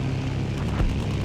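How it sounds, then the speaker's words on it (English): Fighter planes dogfighting in the Battlefield 1942 video game, a continuous loud engine roar with a brief low thump partway through, with no talk. "nice dogfights over the Allied starting flag"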